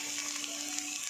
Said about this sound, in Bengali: এবার সর্ষেটা ঢেলে দেবো